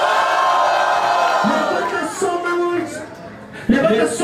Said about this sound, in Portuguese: Muito barulho que gostou das rimas do Rio Vi.